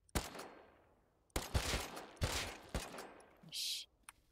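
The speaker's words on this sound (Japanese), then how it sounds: "銃声はしたから。" Gunfire in the survival game Rust, several sharp shots in separate bursts that ring out and decay, loud and close, with a brief bright tone near the end.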